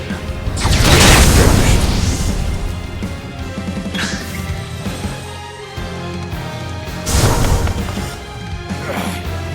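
Fire spell attack effect in the video game Octopath Traveler 2, with loud crashing bursts and booming impacts that swell, fade and swell again under layered game music.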